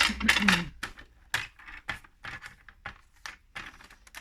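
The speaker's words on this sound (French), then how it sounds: "Je vais découper le trop." Scissors snip off excess paper while making an origami pouch, a series of short crisp clicks and cuts in an irregular rhythm, close and fairly quiet.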